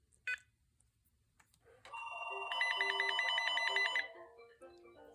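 A 2000s General Electric analog cordless phone rings with a bright electronic warble, sustained for about two seconds after a short chirp and soft button beeps, close and fairly loud in a quiet room.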